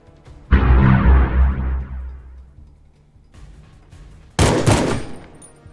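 Rifle fire in the End State game: a sharp loud shot with a long ringing decay, a quieter pause, then a second burst of gunfire toward the end.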